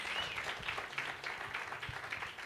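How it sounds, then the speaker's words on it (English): Faint, scattered applause from a small audience at a township business workshop in Olievenhoutbosch, soft and somewhat distant, fluttering unevenly for a couple of seconds. "Let's give that a round of applause."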